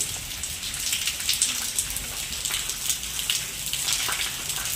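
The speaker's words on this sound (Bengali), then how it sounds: "খুব সুন্দর আজকে বৃষ্টি হচ্ছে।" Steady rain pours down, a dense hiss of drops striking surfaces with scattered louder patters, continuous and fairly close.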